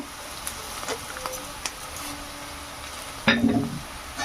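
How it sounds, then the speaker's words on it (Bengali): Onion, chilli, ginger, garlic and lentils frying in a pan make a soft continuous sizzle with light clicks of stirring, then a sudden louder burst of frying sizzle near the end. "এবার একটু লাল করে ভেজে নেব পেঁয়াজ মরিচ আদা রসুন"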